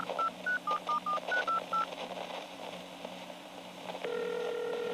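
A quick run of eight short telephone keypad beeps at varying pitches in an even rhythm, followed by a steady continuous phone tone.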